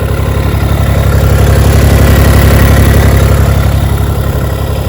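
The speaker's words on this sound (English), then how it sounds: "you hear that deeper sound like a Borla exhaust system" A turbocharged Kubota BX tractor with a flail mower runs steadily up close, a loud, deep, throbbing engine note with a fast even pulse and no talking.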